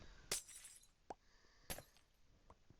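A glass block shatters in Minecraft, with two bright, crisp breaking crashes and a few lighter clinks between them, close and clear over faint background music.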